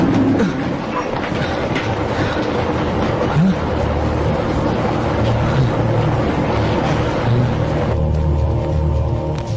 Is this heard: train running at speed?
yes